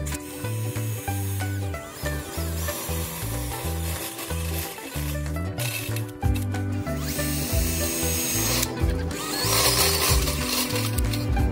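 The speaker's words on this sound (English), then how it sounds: "So on this one, I'm gonna drill a series of holes around the top perimeter to allow this thing to breathe and vent out." Power drill boring a series of holes around the top of a cheap metal rocket stove, with loud bursts of whirring and grinding that stop and start in an uneven rhythm, close by, with no talking.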